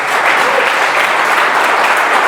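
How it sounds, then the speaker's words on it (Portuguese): A men's church group applauds one of its members, a loud, dense and continuous burst of clapping from a sizable crowd indoors, with no voices standing out. "Dá uma salva de palmas aí para o teu irmão"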